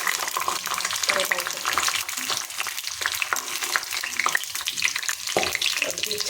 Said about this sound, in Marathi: आपण सर्व डिंक हा तळून घेऊया